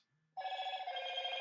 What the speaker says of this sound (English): My phone is making noises in the background.